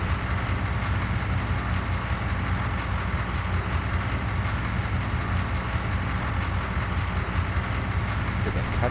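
A heavy engine idles loudly and continuously nearby, a low rumbling drone with a slightly uneven, rough texture and no speech.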